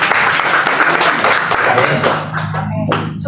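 Applause at a church worship service in Jakarta, a dense crowd clapping steadily for about two seconds before thinning out, with a low hum of organ or music beneath.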